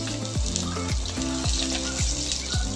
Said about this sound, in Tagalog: dito, mag-isa na tayo ng ating bawang